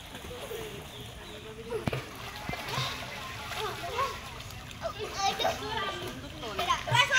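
Children splash and swim in water, with soft sloshing and lapping under lively kids' voices and shouting, some splashes sharper and closer toward the end.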